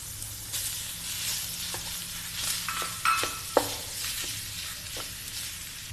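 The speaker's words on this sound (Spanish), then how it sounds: "Así voy a sofreír alrededor de unos 5 minutos más" Bell pepper, garlic and chorizo sauté in a pan with a continuous sizzle, stirred now and then with sharp utensil scrapes and taps against the metal.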